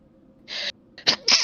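One close, sharp sneeze breaks out during a tabletop game session, with a quick intake of breath first and then the forceful burst, alone and with no talk.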